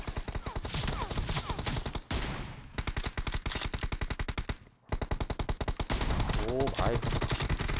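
Rapid automatic gunfire in PUBG Mobile, loud and near, in long continuous bursts with two short pauses, while a man briefly exclaims over the shooting.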